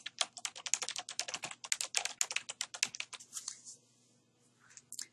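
Rapid, close typing on a computer keyboard enters a search term into a medical terminology browser: dense bursts of key clicks for about four seconds, then a pause and a few final keystrokes, with no talk.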